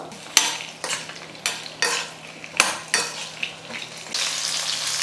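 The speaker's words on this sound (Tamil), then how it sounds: "இப்போ இந்த எண்ணெயில் சேர்த்துக்கலாம் வெண்டைக்காய் நல்லா வதங்கி வரணும் ரெண்டு நிமிஷத்துக்கு நல்லா வதக்கிக்கலாம்" Okra sautéing in hot oil for an Indian okra gravy, with a steady sizzle broken by repeated stirring scrapes of a spatula against the pan, close and fairly loud, with no talk.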